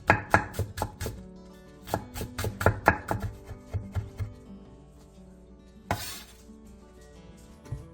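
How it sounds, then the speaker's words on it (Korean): Knife rapidly chopping a halved green onion on a cutting board, a quick run of crisp, close taps in bursts, followed by a brighter clink near the end. "대파 1개를 길게 반으로 가른 뒤 쫑쫑 썰어주세요."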